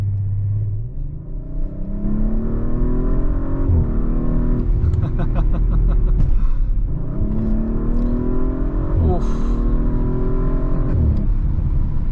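An Audi RS5 Sportback with Quattro all-wheel drive accelerates hard, its engine note climbing steadily before a downshift and another strong pull, loud and close from inside the cabin, with a little talk over it.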